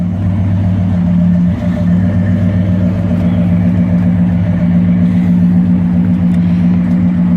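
A car engine fitted with an H-pipe crossover, resonators and Flowmaster 40 mufflers, raised above idle into a loud, steady, deep exhaust drone held close by for the whole stretch.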